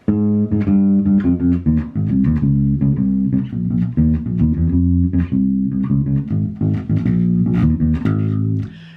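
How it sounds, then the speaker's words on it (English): Bass guitar plays a line from the major scale, a busy run of plucked, bouncing notes with syncopated rhythm, close and loud, alone with no voice for about nine seconds. "let's play the bass line so you can hear what it sounds like"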